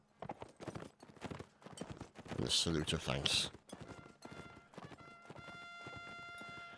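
Horse hooves clip-clop in Mount and Blade: Napoleonic Wars during a line battle event, a run of quick close hoof beats and a louder burst of galloping, with someone speaking over part of it.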